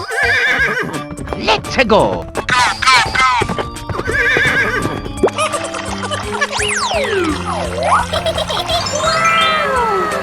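A horse whinnies and clip-clops in a 3D animal sliding video game, with loud, wavering neighs and hoofbeats mixed among cartoon boings, music and other animal cries while a person talks over it.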